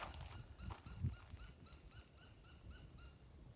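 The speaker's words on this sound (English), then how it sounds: "And there's a very squeaky bird over there." A squeaky bird calls repeatedly from some distance along a desert trail in Saguaro National Park, a rapid series of short, high, evenly spaced notes, faint over light wind and ambient noise.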